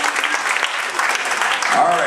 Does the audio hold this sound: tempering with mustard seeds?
no